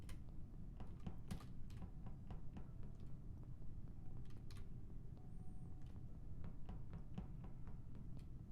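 Keys tapped on a computer keyboard while playing Among Us, quiet irregular clicks scattered over a low background hum.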